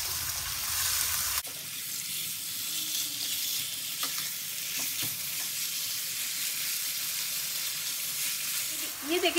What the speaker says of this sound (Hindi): अब हम इसमें डाल देंगे चिकन, और इसे तेज आंच करके हम भून लेंगे।